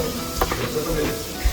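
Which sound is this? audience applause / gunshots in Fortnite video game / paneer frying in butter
paneer frying in butter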